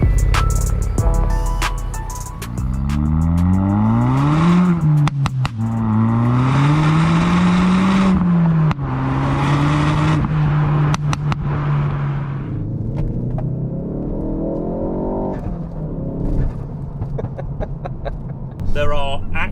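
A modified car's engine revs and pulls through the gears, its tone rising and falling as it accelerates along the road, loud and close throughout.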